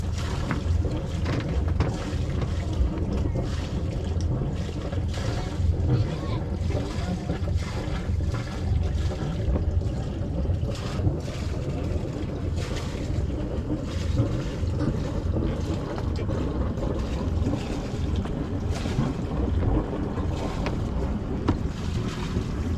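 A sailboat under sail heads out of a bay off Dingle, with steady wind rushing over the microphone and continuous water wash along the hull, loud and unbroken throughout with no talking.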